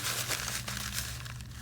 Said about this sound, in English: So what I need to do is I need to put some dried paper towels